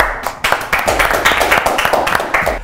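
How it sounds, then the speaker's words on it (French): A small group at a creative workshop session claps briefly. A handful of uneven, close claps come in loose bursts rather than a full, sustained ovation. "on peut l'applaudir"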